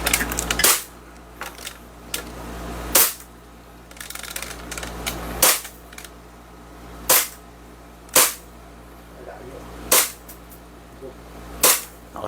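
A Glock 17 pistol fires at a shooting range: seven sharp, loud shots spaced a second or two apart, each cracking out distinctly against quiet background noise.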